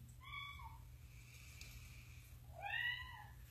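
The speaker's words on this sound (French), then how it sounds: "On a la petite visite, un petit chat qui est avec moi." A small cat meows twice indoors, a short call near the start and a longer, louder one near the end, over a steady low hum in a quiet room.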